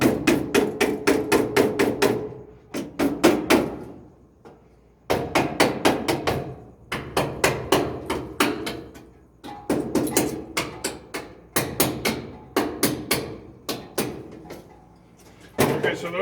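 Steady, rapid hammer-like knocking and prying on old doghouse wood as screws and staples are worked out, dense bursts of sharp percussive hits with brief pauses between, close and loud.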